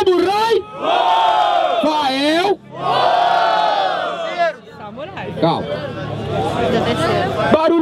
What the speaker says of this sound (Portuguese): Barulho quem gostou da rima do freestyle do meu mano Samurai